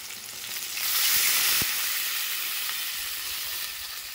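Spices sizzle and fry in a pan as water goes in for a fish curry, the hiss surging loud and steady, with a brief stirring clink partway through.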